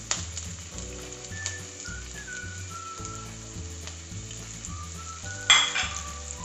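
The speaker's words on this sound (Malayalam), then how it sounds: "ഉള്ളിയും പച്ചമുളകും എടുത്ത് അതിനകത്തിട്ടൊന്ന് വരട്ടിയെടുക്കാം" Onion and green chillies frying in coconut oil in a pan, a steady close sizzle with occasional stirring and one brief metallic clink of a utensil near the end, with no speech.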